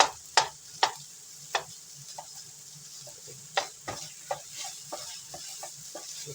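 Cubed burger pieces frying in a simple stir fry, a faint steady sizzle punctuated by sharp clicks and taps of a utensil stirring against the pan, near and quiet, no voices.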